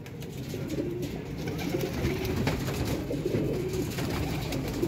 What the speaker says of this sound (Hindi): 55 नंबर पे दोस्तों एक कबूतर आ गया।